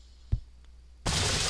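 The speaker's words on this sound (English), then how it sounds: "Oh, my train just broke down. That's what that sound is." A train breaking down in the video game Open Transport Tycoon makes a single short crack, followed a moment later by a sustained loud burst of harsh, hissing noise.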